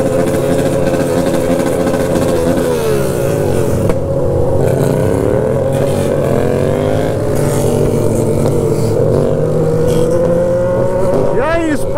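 A 2007 VW Gol revs hard through its exhaust on a hill, close and loud. The engine drones steadily, then swells and falls in repeated pitch sweeps, with a sharp rising rev at the very end.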